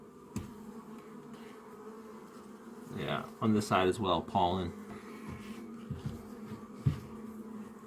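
Honeybees hum and buzz around open hive frames during a beekeeping inspection, a soft, steady drone with a brief louder swell as a person talks close by.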